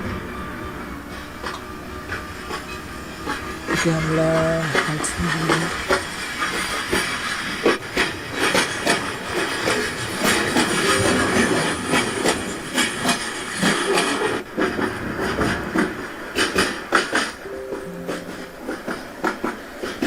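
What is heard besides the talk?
train running in Train Simulator Bangladesh video game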